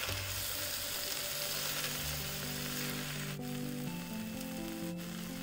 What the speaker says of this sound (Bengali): শাকগুলো দিয়ে আমি নাড়িয়ে নিচ্ছি, না হলে নিচে রসুন একটু পুড়ে যেতে পারে।